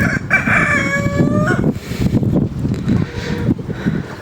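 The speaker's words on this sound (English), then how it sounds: "It's the chickens." A rooster crows loudly up close, a long rising cock-a-doodle-doo, followed by scattered clucking and farmyard fowl noises.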